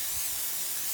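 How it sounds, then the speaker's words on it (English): 3M aerosol spray can being sprayed onto a canvas drop cloth, a continuous close hiss held steady and loud without pause. "just spraying this on here"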